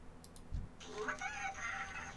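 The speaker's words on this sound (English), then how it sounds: "trying to help this chicken" A chicken clucks and crows in World of Warcraft, a short rising call heard fairly close but quiet over a low background hum.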